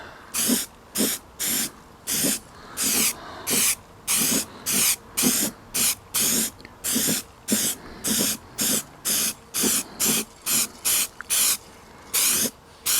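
Repeated short bursts of spray paint hissing from an aerosol can onto a metal garden incinerator, each spray lasting under a second and separated by brief gaps in a quick, uneven rhythm, close and moderately loud.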